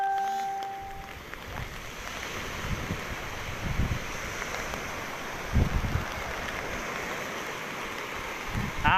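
Storm wind and rain from Typhoon Pabuk arriving on Koh Phangan, a steady roaring gust with rain and surf noise, gusting louder in places and buffeting the microphone.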